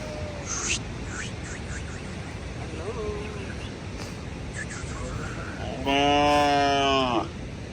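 A cow lets out one long, low moo nearby at a cowshed in Nepal's Langtang Valley, following quiet outdoor ambience and a few soft voices.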